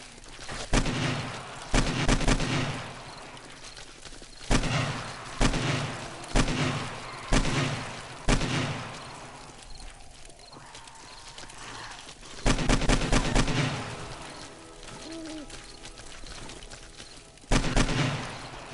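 Bursts of AK assault rifle fire in the video game 7 Days to Die, several separate volleys of rapid shots spaced across the stretch, loud and close with quieter gaps of game ambience between them.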